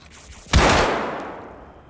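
One loud, close gunshot from a TOZ rifle in the game Escape From Tarkov, a sharp crack followed by a long reverberant decay fading over more than a second.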